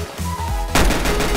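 Heavy turret fire from the Night Rider vehicle in the Roblox game Mad City: loud dense bursts of gunfire with rumbling low end that intensify sharply midway and continue steadily, with no voices.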